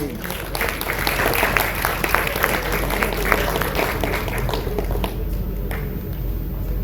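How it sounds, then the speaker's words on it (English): An audience at an IEEE Bangalore tech event applauds after a token of appreciation is presented, with sustained, fairly loud clapping and sharper individual claps popping through. Some voices murmur underneath. "Let's please give a big round of applause."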